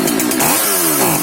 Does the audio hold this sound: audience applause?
no